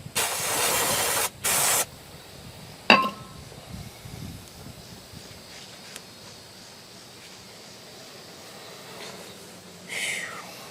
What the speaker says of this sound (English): Okay, a little more brake cleaner action.